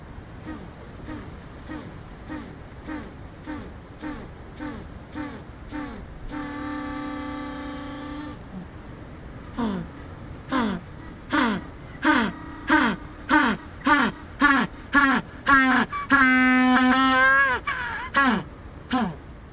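Bulls bellowing and lowing in a series of repeated calls, some long and drawn-out, others short and rhythmic, moderately loud and near, with no talking.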